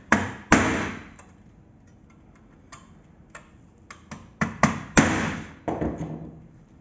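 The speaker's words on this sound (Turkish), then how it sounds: "önce vidanın üstüne küçük bir darbe" A small hammer taps the screws of a Faz 2 smart board's OPS panel, giving a series of sharp, close metallic knocks at irregular intervals, a few louder blows standing out among lighter taps.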